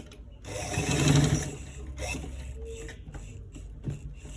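A sewing machine stitches the inner pocket of a V-neck garment in a close, whirring mechanical run that peaks early and then breaks into shorter bursts and clicks, with no talk over it.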